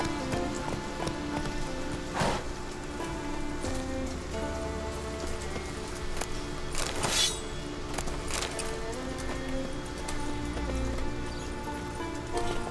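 Game horse Roach in The Witcher 3 gallops under steady rain-like hiss, hoofbeats running continuously with a few sharper impacts and bursts through the stretch, no speech over it.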